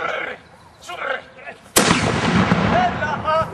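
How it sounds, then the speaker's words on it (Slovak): A musket fires as a single sharp, loud blast that decays with a rough crackling tail, preceded by scattered voices and someone talking. "Mušketier vystrelí, ale tie zbrane neboli nič moc"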